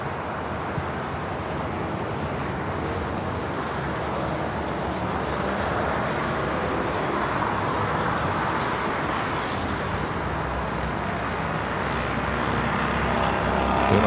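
A jet airliner at LAX airport produces a broad, continuous engine roar that swells slightly over the span, with distant traffic-like rumble beneath and no voices.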